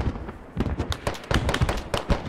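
Gunfire in the tactical shooter game Squad during a firefight on a ridge, rapid sharp cracks and pops in irregular bursts, fairly loud and close, with no talk over them.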